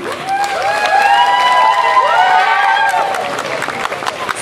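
Festival audience applauding and cheering at an ethno fusion music event in Odessa, with loud sustained crowd noise and rising, sweeping shouts and whistles carrying over the clapping.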